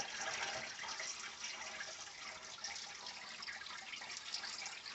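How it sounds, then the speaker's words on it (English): Soft steady stream of cool tap water running over buttermilk-coated food as it is rinsed, a continuous faint splashing hiss with no talk. "washing all that extra buttermilk out of it."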